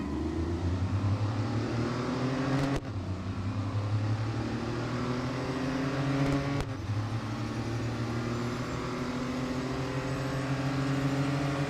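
An Audi Quattro B2 engine racing in the video game Real Racing 3 revs steadily upward in pitch, broken by two quick gear shifts, loud and continuous with no talking.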